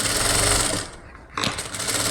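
Sewing machine running a double stitch along a blouse cup dart, a close, rapid rattling run that stops briefly midway and then resumes at the same pace, with no talking.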